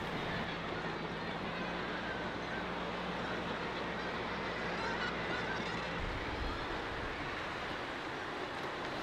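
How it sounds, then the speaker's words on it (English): Large colony of thousands of seabirds calling in fog at sea, a dense continuous wash of cries and honking goose-like calls, with a low engine drone underneath that stops partway through. "we're passing a massive bird colony"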